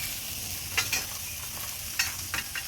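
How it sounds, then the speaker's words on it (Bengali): Leafy greens fry in a pan with chili and onion, a steady sizzle broken by a few brief scraping stirs, close and moderately loud, with no talking. "আর এদিকে এখন শাকটা ভেজে নিচ্ছি"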